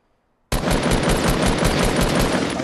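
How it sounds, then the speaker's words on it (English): Rapid automatic gunfire in the Fortnite video game bursts in loud and sustained after a short silence, a dense stream of shots with no talking. "I hear guns."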